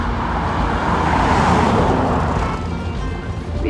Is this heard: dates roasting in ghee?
no